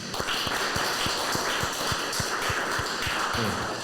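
Congregation members at an evening dharma talk give a round of applause: steady, evenly spaced claps repeating at a brisk, regular rhythm over a dense, moderately loud wash of room noise.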